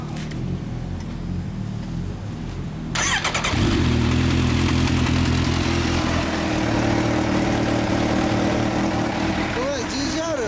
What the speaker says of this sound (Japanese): H2 エンジン音聞かせてもらえますか